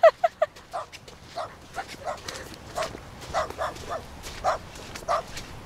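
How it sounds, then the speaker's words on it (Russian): A small stray puppy yips and whimpers in a string of short, high-pitched cries, several quick ones at first and then a broken run of whines, fairly close. "Ой, собачка."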